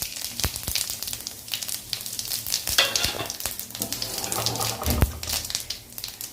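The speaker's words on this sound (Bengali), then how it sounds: "তেল গরম হয়ে গেছে, এই তেলে জিরে ফোড়ন দেব।" Cumin seeds tempered in hot oil for a Bengali fish curry, crackling and sizzling close by with uneven pops and a few sharp clicks of a spoon against the pan, no talk.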